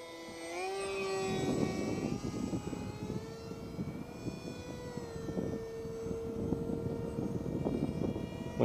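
An RC F18 jet with a Zoom 450 motor flies at low throttle, its steady whine rising and falling in pitch as it passes, continuous and fairly close, with wind rumbling underneath.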